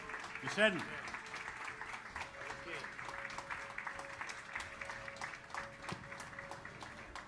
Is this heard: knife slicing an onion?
no